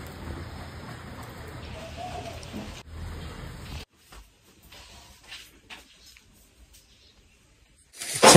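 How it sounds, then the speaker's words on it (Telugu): Light rain falls outdoors on farmland, a soft, steady hiss for about four seconds that then dies away to near quiet, with a bird cooing faintly in the background. "ఎంత వర్షం సన్నం."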